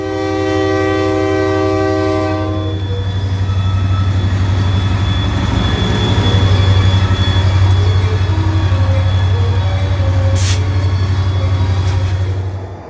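An EMD SD40-2 diesel locomotive sounds a loud multi-tone horn, then rumbles past close by with a heavy, steady engine drone and rolling wheel noise throughout.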